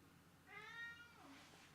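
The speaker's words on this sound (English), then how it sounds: "I got a cat here." A house cat meows once in a single drawn-out, rising-then-falling call, fairly close and clear in a quiet indoor room with no talk over it.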